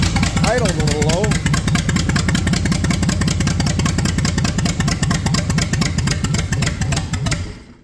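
A Ford 300 straight-six engine idles a little low with a steady, loud, slightly lumpy throb that runs evenly before fading at the end, with people talking over it.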